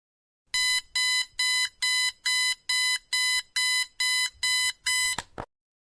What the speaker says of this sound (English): this is how to make a working alarm using Python